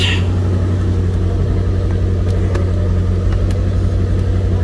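A car engine idles steadily on a humid day with a little condensation at the exhaust, a loud, close, continuous low rumble with no talking.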